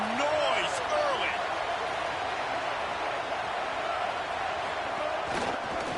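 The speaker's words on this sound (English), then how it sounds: "This crowd bringing the energy and noise early." Roaring stadium crowd noise in the college football video game NCAA 27, a dense, steady wash of cheering that fills the whole stretch, with brief whistle-like calls near the start and a louder swell near the end.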